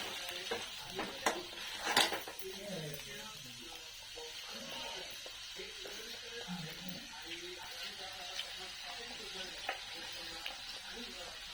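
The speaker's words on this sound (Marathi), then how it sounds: "बघा कसा मस्त तडका बसला" Ground masala paste hits hot oil in a pan as a tadka for homemade chicken curry, giving a soft close sizzle with stirring scrapes and a few sharp clatters early on, while a voice speaks faintly at times.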